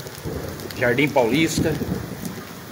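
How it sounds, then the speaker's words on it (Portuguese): Heavy rain pours steadily in a city during a late-afternoon storm, a dense constant hiss heard beneath a voice. "Algumas áreas rurais estão chovendo neste momento."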